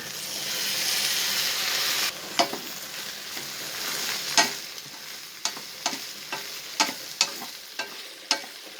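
Okra pieces frying in a pan for okra kuzhambu: a steady close sizzle with a stirring spoon scraping and knocking against the pan in repeated sharp strokes, no talk.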